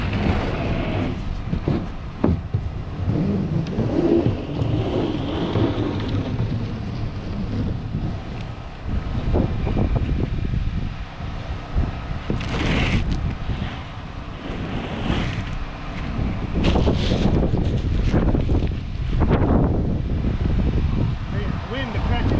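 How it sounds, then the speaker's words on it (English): Strong wind gusting across an off-grid homestead cabin build site in Alaska during metal roof installation, a steady broadband roar with rising gusts, close to the microphone and buffeting it throughout. "the wind's blowing pretty good"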